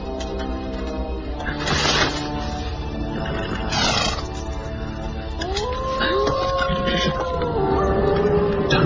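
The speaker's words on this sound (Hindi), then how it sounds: "डरो मत, ये भेड़ियों की आवाज है।" Wolves howl in a scene from the Hindi-dubbed film Jumanji: Welcome to the Jungle. Long, wavering howls rise in the second half over a dense bed of music and rumbling effects.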